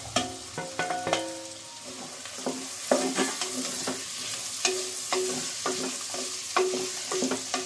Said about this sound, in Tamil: பீன்ஸு இந்த உருளைக்கிழங்கும் போட்டு கொஞ்சம் வதக்கிக்கலாம்.